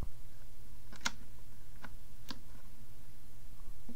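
A pull-up switch on a Winwing PTO 2 flight simulator panel gives a few quiet, light clicks, close and soft against a low background hum.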